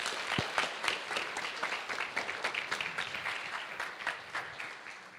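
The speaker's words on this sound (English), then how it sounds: "Give yourselves a round of applause." Congregation applause at a church service, a dense patter of many hands clapping that stays steady for several seconds, then thins and fades slightly toward the end.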